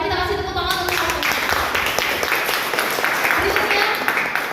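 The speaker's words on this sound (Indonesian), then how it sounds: "Mari kita kasih tepuk tangan untuk paslon." Audience applause for student presidential candidates at a campus debate, a dense run of clapping that builds after an opening moment of voices and carries on with talk mixed in.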